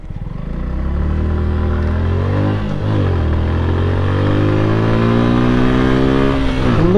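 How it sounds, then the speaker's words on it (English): A Suzuki Gixer motorcycle engine revs up loudly and close, pitch climbing, dipping briefly, then rising again in a sustained, throaty acceleration. "Look at the engine grunt."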